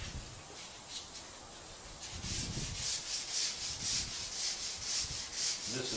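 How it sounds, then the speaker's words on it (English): Hand sanding of glazed plastic with 220-grit paper: a faint scratchy start, then regular close strokes of rasping grit from about two seconds on, moderately quiet and without voices. "we're going to sand the part that we've uncovered"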